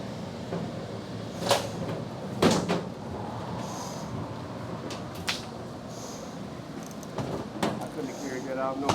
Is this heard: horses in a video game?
no